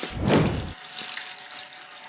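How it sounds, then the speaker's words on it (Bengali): Jackfruit seeds are rinsed under a kitchen tap: a loud, close gush of running water for under a second, then a thinner trickle and faint splashing. "কাঁঠালের বিচিগুলো ধুয়ে নিলাম ভালোভাবে"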